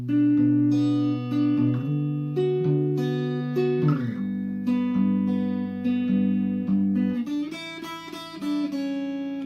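Guitar repeats the verse riff of a song, low chugging notes over a sustained bass line, shifting chords midway and picking up brighter strums near the end; loud and close.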